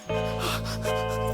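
Close and loud, a man snores with a steady buzzing drone like a bee, one sustained rasping breath that swells slightly midway.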